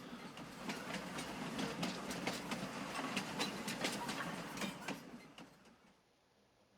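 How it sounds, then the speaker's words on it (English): A train rolls past in Farming Simulator 22, a steady clattering rumble with rhythmic clicks of wheels over rail joints for several seconds before fading away near the end. "Oh, noisy train too."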